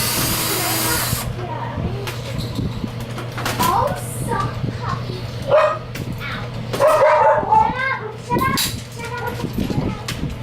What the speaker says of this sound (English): Excuse my German Shepherds.